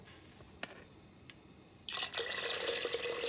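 Water is poured into a pressure cooker holding browned chicken feet and cow heel for soup; a few faint drips come first, then a loud steady splashing pour runs to the end.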